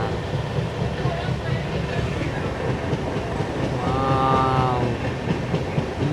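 A train runs through monsoon-season Kerala with a steady rumble and rhythmic wheel clatter throughout, a brief tonal horn or whistle sounding midway over the continuous rolling noise.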